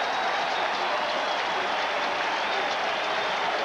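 A crowd at a 1987 Cowboys at Patriots football game roars and cheers after a quarterback's 18-yard scramble, a steady, dense wash of noise filling the stadium without a break.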